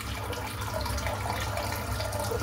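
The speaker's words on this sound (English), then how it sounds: "just fill the sink up with hot water" Hot water running from a tap into a sink, a steady, full rushing and splashing stream that stays constant and close throughout, with no voices.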